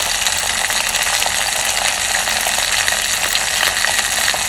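Hot oil sizzles hard around a frying fish head, and trapped water pops and crackles through a constant, close, loud hiss with no voices.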